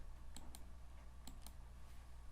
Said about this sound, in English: So I type in the word spline, SPL as a shortcut, enter